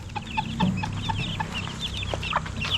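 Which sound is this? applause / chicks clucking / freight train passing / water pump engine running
chicks clucking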